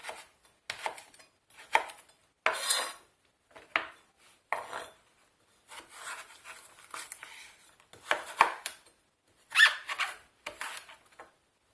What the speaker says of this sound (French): Maintenant, je vais la recouper en gros morceaux.